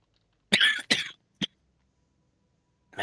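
A person coughs several times, two strong wet coughs close together followed by a shorter one and another starting at the end, loud and near with silence between.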